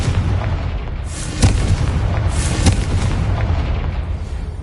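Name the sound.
Confringo fire-blast spell explosion in the video game Hogwarts Legacy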